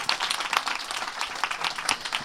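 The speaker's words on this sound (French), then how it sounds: "Tonnerre d'applaudissements." Audience applause at a panel discussion, a steady broadband patter of many hands clapping at moderate distance, fairly quiet and without talk.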